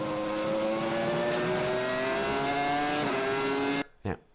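A Formula 1 car at the Japanese Grand Prix screams past at high speed, its engine note holding loud and steady with rising pitch, then cutting off abruptly, followed by a brief burst.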